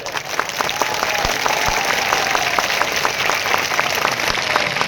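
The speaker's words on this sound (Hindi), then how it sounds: "ताली जोरदार बजना चाहिए" A crowd at a political speech claps strongly and steadily, a dense wash of applause with scattered sharper individual claps, continuous throughout.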